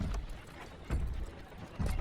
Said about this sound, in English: Wait a second. I hear his footsteps.